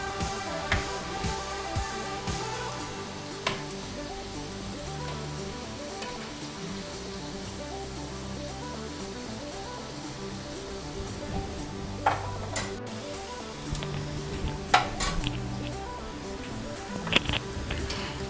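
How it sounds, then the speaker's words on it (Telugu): Potato pieces for Kashmiri dum aloo fry slowly in oil in a pan over a low flame, giving a steady soft sizzle close by, with occasional clicks and scrapes from stirring. "ఎందుకంటే సిమ్లో పెట్టి ఫ్రై చేస్తున్నాం కాబట్టి"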